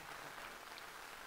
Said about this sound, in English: So I think that deserves one final round of applause